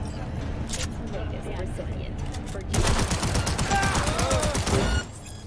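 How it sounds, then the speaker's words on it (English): A pistol firing automatically in Cyberpunk, a quick burst of rapid shots that starts abruptly after a stretch of lower game noise and speech, then cuts off sharply, loud and close. "I switched to the pistol and it just started firing automatically"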